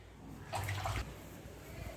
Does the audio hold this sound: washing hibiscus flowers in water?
yes